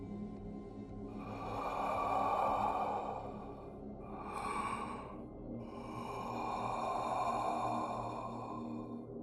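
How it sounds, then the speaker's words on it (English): Slow, heavy breaths over a phone line rising and falling in long swells, three drawn-out exhales in a row, close and breathy with a faint hiss behind them. "All I heard was breathing."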